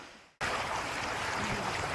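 Huay Kaew Waterfall in Chiang Mai roars as a loud, dense, continuous rush of falling water, cutting in abruptly after a brief quiet moment and holding steady to the end, with no voices.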